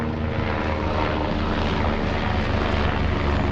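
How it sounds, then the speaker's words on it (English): A news helicopter passes overhead near a campground in southwestern Pennsylvania, its rotor and engine making a steady, fairly loud droning thrum throughout. "Looks like maybe a news helicopter."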